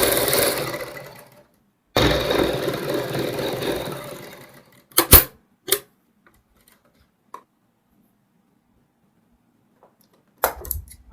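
A sewing machine stitches a strip of green fabric, with a sustained mechanical run of a couple of seconds, then a few sharp clicks and short bursts before quiet, with a final brief burst near the end.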